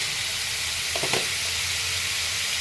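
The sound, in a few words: spices being fried in a pan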